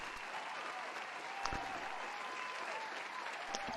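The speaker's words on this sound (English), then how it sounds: "let's keep that applause going for our next presenter, Halim Lee" Sustained applause from a group, a dense, even patter of clapping that stays steady throughout without voices.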